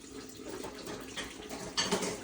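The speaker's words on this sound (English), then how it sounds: "I'm gonna add the water" Lukewarm water poured slowly onto a kitchen scale for sourdough, a soft steady trickle that builds to a louder splashing burst near the end, close by and with no talk.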